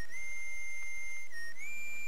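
Proto Man's whistle in Mega Man 5, a steady high synthesized chiptune tone that holds, dips briefly, then rises to a slightly higher pitch, sounding alone and clear.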